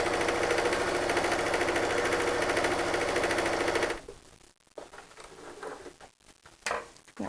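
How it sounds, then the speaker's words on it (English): A sewing machine stitches fabric in a fast, steady close rattle for about four seconds, then stops, leaving faint handling noises. "We're going to hold our fabric like this"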